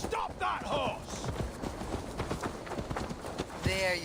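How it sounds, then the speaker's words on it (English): Horse hooves gallop in a rapid clip-clop rhythm in Assassin's Creed Valhalla, close and steady throughout, while voices call out over the pounding and another brief tonal effect sounds near the end. "Stop that horse!"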